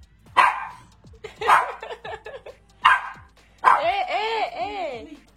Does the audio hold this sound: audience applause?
no